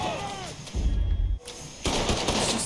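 Gunfire from the video game Mafia 3, in its Stones Unturned DLC: two loud, dense bursts of shooting, separated by a brief lull.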